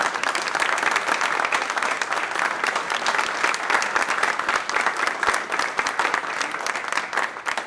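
An audience at an Austin appreciation awards ceremony applauds an awardee, with dense, steady clapping that carries on loud and unbroken for the whole stretch and no talk over it.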